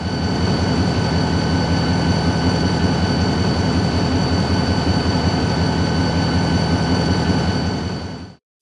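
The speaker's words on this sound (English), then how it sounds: "Now the sounds of RailPro's new Ultimate Series sound." A RailPro Ultimate Series sound decoder in a model diesel locomotive plays its prime mover, a steady, loud, continuous engine drone with a regular low throb and a faint high whine, running alone throughout.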